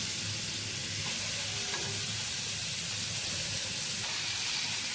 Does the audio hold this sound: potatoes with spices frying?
yes